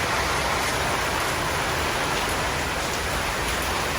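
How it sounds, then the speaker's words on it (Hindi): Heavy rain pours down in Bangkok, Thailand, a dense, steady hiss of drops that never lets up and fills the whole scene with no voices. "बादलों को देख के आप लोगों को पता चलेगा कि कितना बारिश हो रहा है"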